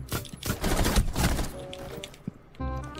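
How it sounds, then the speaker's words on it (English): In a video game, gunfire comes through a window as rapid bursts of close, crackling shots, crowded in the first half and then tapering into scattered single shots. "they're shooting through the window over here"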